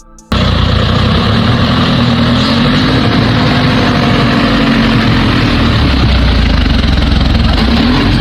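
A MAZ-7310 Soviet military truck's 38.8-liter V12 engine runs loud and steady after a brief quiet start, a dense continuous low rumble with no voices over it.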